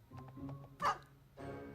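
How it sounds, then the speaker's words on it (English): Dogs bark a few times at a distance, a sharper yelp standing out in the middle, over low background noise. "My dogs are barking."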